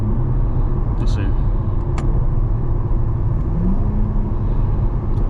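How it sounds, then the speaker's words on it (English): C8 Corvette in Sport+ mode heard from the cabin: a continuous low engine and exhaust drone with road rumble, steady and fairly loud, with a few faint higher ticks and clicks above it. "you can still hear the exhaust. It still sounds good."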